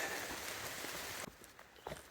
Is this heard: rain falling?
yes